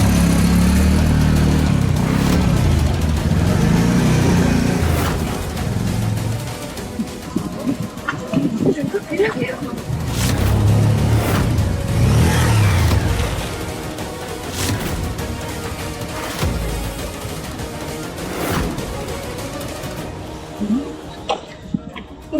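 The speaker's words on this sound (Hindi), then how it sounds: "ये आजकल के लड़के गाड़ी कम चलाएंगे और आवाज ज्यादा करेंगे।" A car engine driven by young men revs loudly in bursts near a house, heavy roars at the start and middle easing to idling and quieter passages, with sharp knocks and some talk in between.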